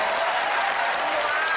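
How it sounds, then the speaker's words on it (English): Studio audience applause at a magic competition show, steady dense clapping with light cheering throughout, loud and continuous with no speech. "Give these guys a round of applause."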